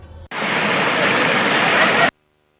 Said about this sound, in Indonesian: Meluncur bebas menuruni bebatuan dengan air yang mengalir deras di kaki Gunung Rinjani begitu menyenangkan.